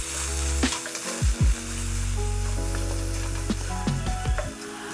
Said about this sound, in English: I'm gonna throw my chorizo bits and pieces in.